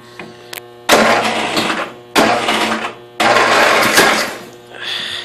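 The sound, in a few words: 1992 Yard King lawn tractor engine cranking, trying to start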